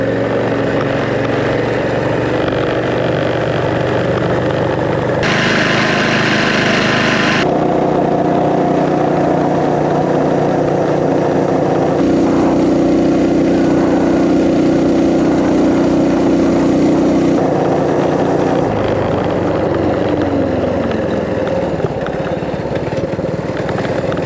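A Coleman BT200X mini bike fitted with richer carburetor jets runs steadily at speed, its small engine droning loud and close with shifting pitch as it is ridden, with wind noise and no talking.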